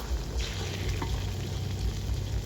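Steady, close sizzle of eggs and fish frying in a pan at a home kitchen in rural Thailand, continuous crackle with a faint stir scrape, no talk.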